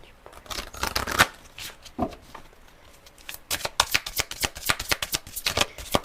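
Tarot cards are shuffled for a reading in rapid riffling bursts, close and fairly loud, with a brief pause midway before the riffles resume in a quick run.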